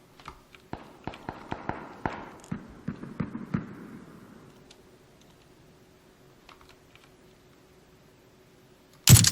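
MK14 rifle fire in PUBG, heard as a quick series of sharp, distant cracks in an uneven rhythm that taper off into quiet, with a loud burst at the very end.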